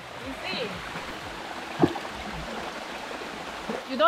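Stream and waterfall at natural pools near Mount Batur, Bali, giving a steady broadband rush of running water that holds through the whole stretch, with a brief splash or knock near the middle and a faint voice toward the end.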